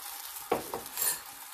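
Egg frying with roti in a pan, a faint sizzle with a few soft utensil scrapes and taps against the pan.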